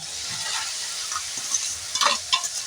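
Boiled cauliflower stir-fried in spiced oil for paratha filling, soft sizzling under brisk scraping strokes of a spatula, a few sharper clinks near the end, close and fairly quiet, no talking.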